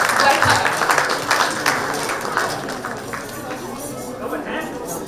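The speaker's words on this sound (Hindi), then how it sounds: "तो स्वागत करिए तालियों की टिप टिप से खुशी मेहरा जी का" At a poetry gathering, an audience claps in a burst that starts fairly loud and then thins out and fades over several seconds, with some talk mixed in.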